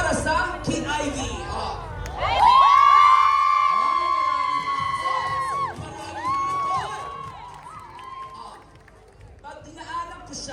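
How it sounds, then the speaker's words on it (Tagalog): A festival crowd at the Philippine Festival in Yoyogi Park, Tokyo, breaks into loud cheering, whoops and high shouts that swell and then fade back into scattered voices and chatter, with a host speaking over it. "I want to hear you cheer."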